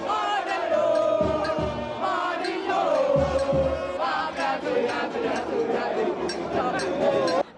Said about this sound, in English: The crowd of masqueraders meal through the market circle streets, receiving chants and cheers from frantic onlookers